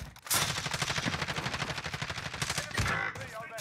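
Rapid automatic gunfire in Call of Duty Warzone, a dense, loud stream of shots rattling continuously for several seconds, with a short burst after a brief break.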